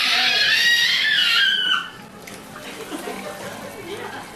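A gallon of water heated to 162 degrees pours in a steady stream into a cooler for under two seconds, then stops, leaving quieter handling noises.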